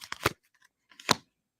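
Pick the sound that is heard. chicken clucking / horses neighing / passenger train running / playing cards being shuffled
playing cards being shuffled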